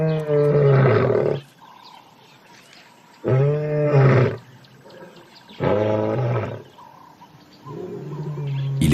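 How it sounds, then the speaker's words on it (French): Lions roaring in a wildlife reserve, four long, deep, resonant roars repeating at even intervals with quiet gaps between, loud and fairly close, with faint birdsong in the background. "elle les entend rugir pour signaler leur position"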